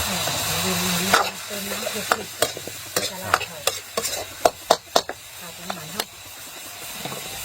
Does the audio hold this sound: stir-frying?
yes